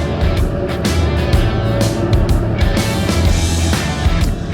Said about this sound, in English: You might feel that truck pull you a little bit towards it first as it comes by.